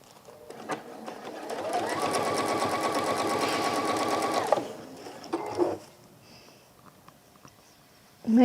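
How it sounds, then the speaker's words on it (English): A sewing machine stitching a seam on a textile caddy runs in one steady buzzing burst of a few seconds, close and clear, then stops with a few small clicks and handling noises. "then sewing up that seam"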